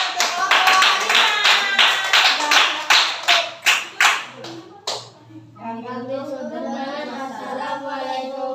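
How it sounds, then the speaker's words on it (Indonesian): Schoolchildren in a classroom clapping together for the tiger group, loud rhythmic hand claps in a rapid steady pattern for several seconds that fade out into children's voices chattering and speaking. "Ayo, beri tepuk tangan untuk kelompok harimau."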